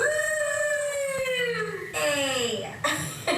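A dog howls in a long, wavering, falling note, close and loud, followed by two shorter howls at a birthday gathering.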